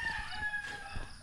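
A large native rooster crows faintly in the distance, a thin drawn-out call heard alone over quiet outdoor background.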